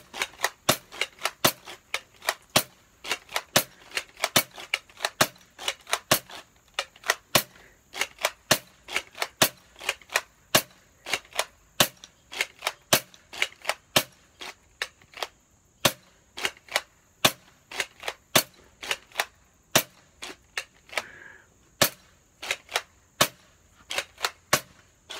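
A Bug Assault salt gun fires repeatedly, each shot a sharp, close snap, with more than twenty shots spaced irregularly and no talk between them.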